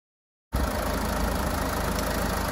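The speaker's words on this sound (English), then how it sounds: "quick video, the engine running on this uh, Freelander TD4." A Land Rover Freelander 2 TD4 diesel engine with automatic gearbox idles steadily after a brief silence, a close, even rumble with a constant low drone and no revving.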